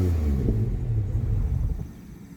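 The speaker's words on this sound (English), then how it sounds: "sometimes if you blip the throttle or let off the throttle too fast, it just dies on you." A supercharged Mitsubishi 3000GT with a 70mm throttle body and a fixed leak gives a short low rumbling blip that sags and fades out as the engine stalls, close and without speech.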